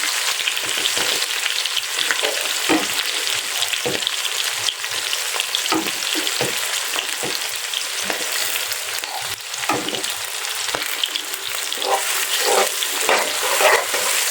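Onion and green chili fry in hot oil with whole cumin, a loud, dense crackling sizzle that carries on throughout, with occasional stirring scrapes and no voices.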